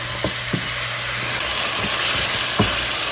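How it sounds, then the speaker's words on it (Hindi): Masala spices frying in oil for a white korma, a steady close hiss and sizzle with a few soft spoon scrapes and clicks against the pot. "तो चलिए अब इसको थोड़ा सा और भूनते हैं।"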